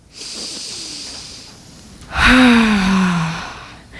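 A single deep breath, a slow audible inhale followed by a long, loud sighing exhale, close and alone.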